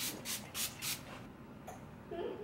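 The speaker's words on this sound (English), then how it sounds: "Now going in with the Wet n Wild Photo Focus Spray." Wet n Wild Photo Focus setting spray is misted in four quick hissing bursts near the microphone, followed by soft rubbing and handling sounds.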